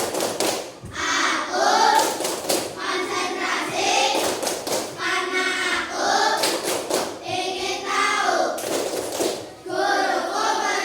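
A classroom of pupils does a rhythmic concentration clapping routine, with sharp group claps recurring in a steady pattern among loud chanted voices.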